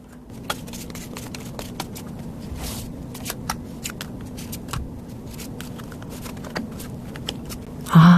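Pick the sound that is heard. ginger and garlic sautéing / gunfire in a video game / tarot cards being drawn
tarot cards being drawn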